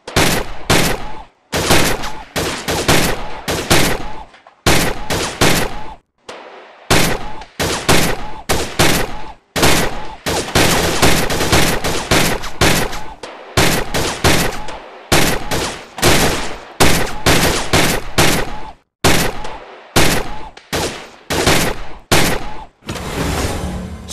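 A gold AK47 assault rifle in the VR shooter Gun Club VR fires long, loud, rapid bursts of automatic gunfire, broken by brief pauses between volleys.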